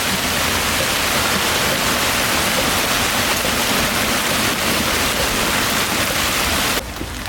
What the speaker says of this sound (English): Oh gosh, it's starting to pour.